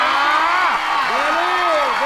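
A studio audience on a Thai dating game show applauds a contestant, a steady wash of clapping and crowd noise under a host's voice that keeps talking over it.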